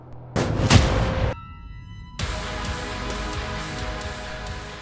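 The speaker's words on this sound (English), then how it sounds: "Oh, so that's where the nuclear explosion came from." A nuclear explosion in the gun-fu shooter Trepang 2: a sudden loud boom with a deep rumbling blast, then a brief quieter stretch with a sustained tone, and a second wave of steady roaring rumble that continues to the end.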